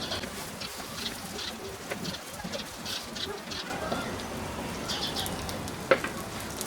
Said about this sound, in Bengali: এই পাশটা এইভাবে বাদামি করে ভেজে নিই